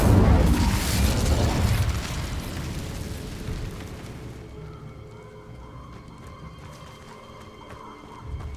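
A fiery spell burst from the Incendio charm in the video game Hogwarts Legacy, a loud roaring blast that fills the first two seconds, then fades into a lingering rumble with faint mechanical clicks.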